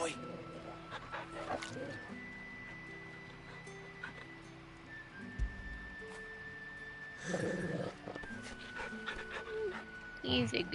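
A dog in the Final Fantasy XVI video game pants and whimpers softly amid quiet game music, with someone talking intermittently over it.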